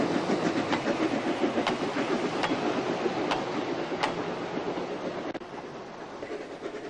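A Salzkammergut Lokalbahn narrow-gauge train runs on rails through fields, with a steady rolling rumble and regular clickety-clack rail-joint knocks heard from on board, loud and continuous, with no voices.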